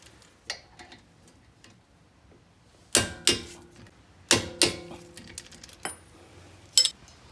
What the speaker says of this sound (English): And I'm gonna torque it to 50 foot-pounds.